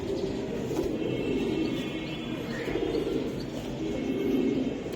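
Racing pigeons coo softly in a loft, their low, throaty calls repeating faintly against a quiet background with no voices.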